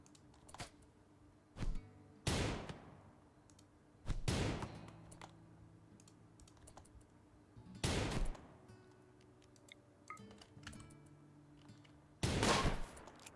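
Bursts of gunfire from colonists shooting in Rimworld, short sharp volleys spaced a few seconds apart at moderate loudness over a quiet game background.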